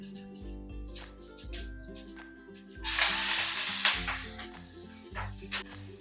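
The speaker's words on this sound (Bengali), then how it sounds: "প্রথমে দিয়ে দেব কালো সর্ষে ফোড়ন" Black mustard seeds hit hot oil in a kadai for a tomato rohu fish curry, giving a sudden loud hissing sizzle that fades over about a second, with soft background music and scattered pops before and after.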